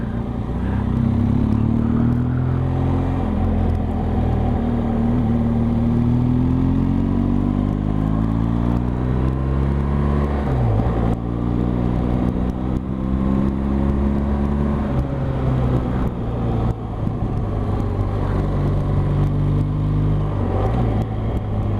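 A motorcycle cruises along country roads in Somerset and Devon, its engine droning steadily at close range with rising and falling pitch as it changes speed, accompanied by constant wind rush and no talking.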